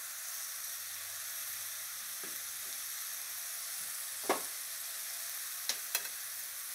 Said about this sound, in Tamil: இப்போது இஞ்சி பூண்டு பேஸ்ட் ஆட் பண்ணிக்கலாம்.